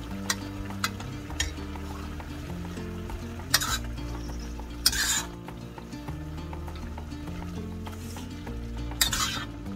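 A seasoned dish is stirred in a pan with perilla oil, with soft sizzling under scraping and clinking utensil strokes and a few sharp louder scrapes, close up and with no talking.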